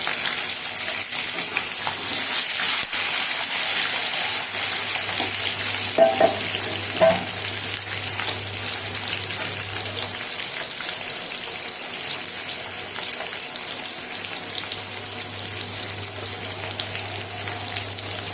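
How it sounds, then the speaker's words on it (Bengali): Onions and capsicum fry lightly in oil, giving a steady, even sizzle that runs alone for the whole stretch, with a couple of faint clicks near the middle. "আমি পেঁয়াজগুলো আর ক্যাপসিকামটা হালকা ভেজে নেব।"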